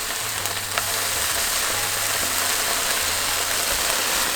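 A vegan patty browns in a pan for a breakfast sandwich, giving an even, moderate sizzle with a faint low hum beneath and one small tap near the start.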